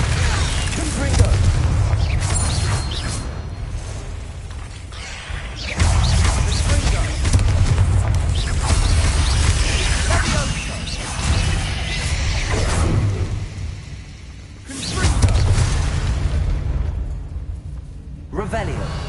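Repeated Confringo fire-spell blasts from Hogwarts Legacy, several booming explosions with whooshing bursts rolling one after another across the stretch, loud and near, with a voice casting spells and talking between them.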